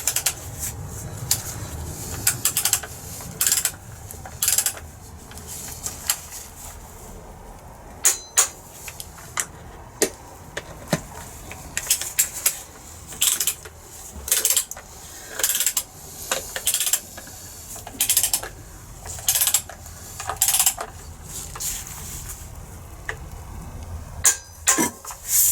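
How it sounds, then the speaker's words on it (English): Ratchet wrench torquing down bolts during an engine rebuild, a series of short clicking bursts repeating at an irregular pace, fairly close and alone without talk. "So I'm going to torque them down."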